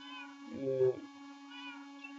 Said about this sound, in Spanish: El gato negrito, este de aquí